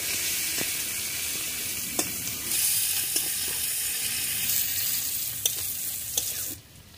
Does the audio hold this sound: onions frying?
yes